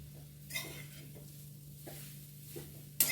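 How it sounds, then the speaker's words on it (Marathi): Grated coconut lightly roasting in a kadhai gives a low, steady sizzle, with several soft scraping stirs and a sharper clink of a spatula against the pan near the end. "तर तीन वाट्या खोबऱ्याचं किस होता माझा आणि थोडा परतून घ्यायचा"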